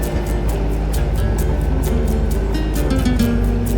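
A sailboat motors on its engine in flat calm with no wind, producing a steady, loud low drone with a faint rhythmic throb that continues unbroken throughout.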